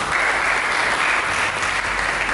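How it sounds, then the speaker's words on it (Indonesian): Church congregation applauding during a Sunday worship service, a dense steady wash of many hands clapping at close range, loud and continuous throughout without pause. "Berikan tepuk tangan bagi kita."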